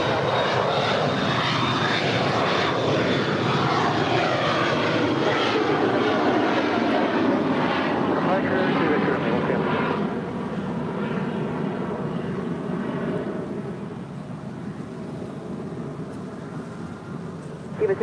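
A Cessna Citation business jet takes off from runway 25 right at LAX with a loud, sustained engine roar and a rising turbine whine that slowly fades into the distance.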